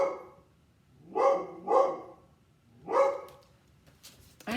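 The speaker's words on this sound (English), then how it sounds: "He keeps barking." A dog barks three times nearby in separate loud woofs, the first two close together and the third after a pause, in an otherwise quiet room.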